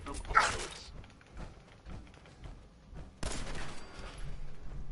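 A gunshot fired from the hip in Fallout 4 cracks out sharply at the start, followed by a few softer thumps and a second burst of loud shooting noise near the end.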